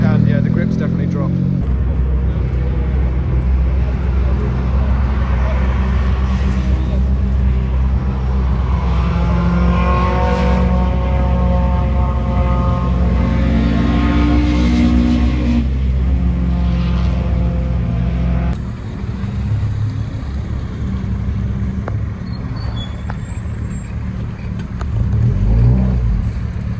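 A small Renault Clio rally car competes on the Brands Hatch Stages, with loud engine drone and shifting revs running beneath continuous talk, then shifting to a rougher, noisier passage near the end.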